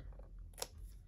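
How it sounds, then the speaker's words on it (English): Scissors make a single short snip through paper while an envelope is being cut out by hand, a brief close crisp cut over a quiet background. "And I'm gonna cut."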